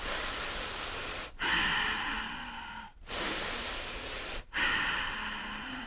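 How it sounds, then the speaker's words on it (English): Bellows breath in yoga practice, forceful rhythmic breathing through the nose, long loud airy strokes with short pauses between each inhale and exhale, close and alone. "Bellows breath in through the nose. Bring the belly in, exhale through the nose, belly out."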